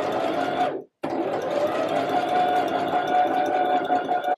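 Sewing machine stitching steadily around the shoulder seam of a reversible dress, a loud, continuous motor whir with one brief stop near the start before running on.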